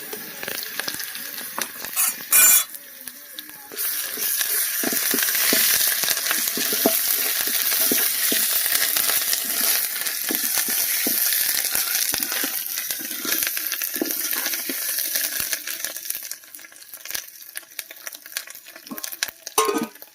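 Ground ginger-garlic paste sizzles in hot oil, a loud continuous hiss with scattered crackles and a brief clink near the start, fading slightly toward the end.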